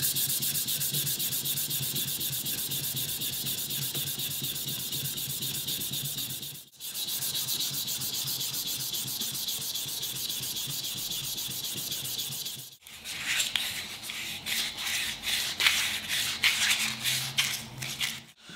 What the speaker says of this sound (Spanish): Vamos a pasar a continuación a la lija del 800.